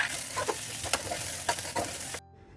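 Rice grains and cloves sautéing in hot ghee, a steady close sizzle with scraping stirs of a spoon, the frying cutting off abruptly near the end.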